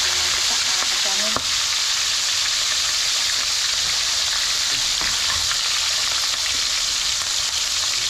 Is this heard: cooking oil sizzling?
yes